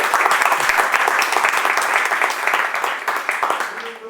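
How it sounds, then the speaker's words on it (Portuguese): An audience at a university talk on games applauds, a dense, loud burst of clapping that holds steady and then begins to fade at the end. "Uma salva de palmas."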